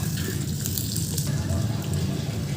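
Egg mince frying in a pan after a little water is added, giving a steady, close crackling sizzle with bubbling hiss throughout.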